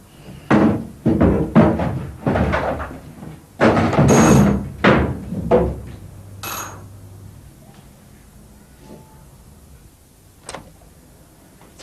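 A wardrobe and other heavy furniture bang and thud repeatedly in quick, irregular bursts, loud and close, then the noise trails off into near quiet with a last faint knock.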